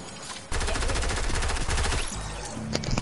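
Rapid automatic gunfire in a video game, a loud burst of closely spaced shots lasting a couple of seconds before it tapers off.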